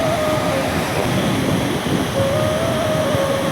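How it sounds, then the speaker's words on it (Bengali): Large waves break on a Kerala beach in a dense, constant roar of surf, loud and close, with a faint tonal whine drifting over the churn and no voices. "কি মারাত্মক ঢেউ।"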